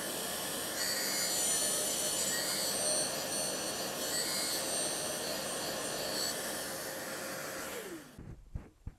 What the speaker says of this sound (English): that's our relief grind on the first side